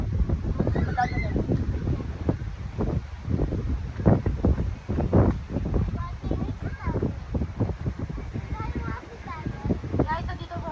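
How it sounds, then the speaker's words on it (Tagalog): Gusty wind buffets the microphone in rough, low roaring bursts, while people talk over it throughout. "andito po tayo ngayon mahangin. Mahangin, sobrang hangin."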